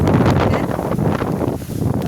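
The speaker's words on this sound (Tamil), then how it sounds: "பயங்கர காற்றுங்க. பார்த்தீங்கன்னா எப்படி இருக்கு பாருங்க." Strong wind blows outdoors on a farm among moringa trees, a loud, continuous roar buffeting the microphone with rustling texture and no pauses.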